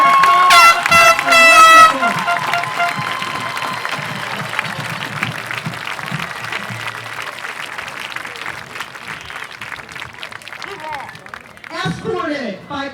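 Applause and crowd noise rise at a high school football game honoring veterans, Preston vs Robert C Byrd, with a loud horn-like burst at the start and a PA announcer's voice over the ongoing clapping.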